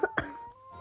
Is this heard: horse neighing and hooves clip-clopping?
no